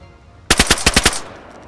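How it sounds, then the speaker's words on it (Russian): A Kalashnikov rifle fires in the DayZ video game: a single rapid burst of about seven sharp shots, loud and close, ending abruptly with no talk. "с калашом это он по мне стрелял"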